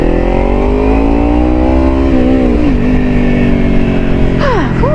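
A Kawasaki Ninja 300 motorcycle runs loud and close while riding, its engine tone shifting and rising with throttle changes over steady road noise, with a brief voice near the end.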